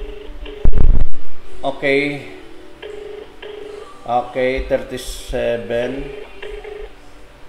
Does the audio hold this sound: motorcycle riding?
no